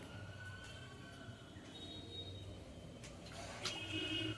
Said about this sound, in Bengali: মাটনটা ধোয়া হচ্ছে বন্ধুরা।